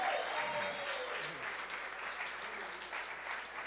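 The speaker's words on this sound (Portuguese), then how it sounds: "Quem pode dar um aplauso a Jesus, dar um grito de júbilo, fazer algum barulho?" A church congregation breaks into sustained applause and cheering, a dense, steady wash of clapping filling the room with no speech over it.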